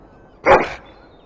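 A single short dog bark from the fantasy role-playing game Dragon Age: Origins, one sharp yip standing alone against a quiet background.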